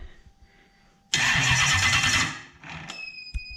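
A Toyota 1UZ-FE engine with both cam sensors disconnected and a weakening battery cranks for over a second with a rapid, loud churning whirr, then drops away without catching; faint mechanical clicks follow.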